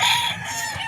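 A gamefowl rooster crows loudly and close at a game farm, one drawn-out call that fades, with clucking from other fowl nearby and no talk.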